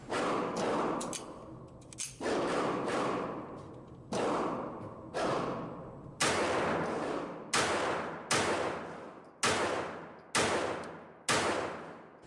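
Bersa Thunder .22LR pistol firing about ten sharp shots at a slow, uneven pace, each crack trailing off with a brief ring, close and fairly loud with no talking.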